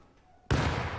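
A grenade blast in the video game Rust bursts in loudly about halfway through after near-quiet, then a dense, sustained roar of noise carries on to the end.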